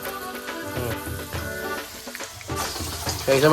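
Chopped coconut pieces fry in hot oil with half-browned ginger and garlic for a Kerala chicken dish: a continuous close sizzle with scraping stirs that grows louder and busier toward the end.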